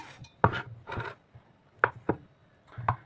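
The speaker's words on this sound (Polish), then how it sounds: "Kroimy masełko" Butter being sliced with a knife in a home kitchen while making an Easter cheesecake, heard as a few soft, separate cuts and knocks against a board, with no talk over them.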